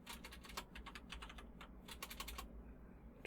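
Rapid, irregular keystrokes on a computer keyboard, close and fairly quiet, come in quick bursts with a brief pause near the middle and no voices.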